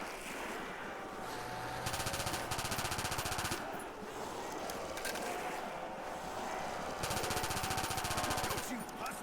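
Automatic gunfire in the Call of Duty: World at War zombies mode, two long rapid bursts of close, loud shots separated by a short pause and a reload, over a background of game ambience.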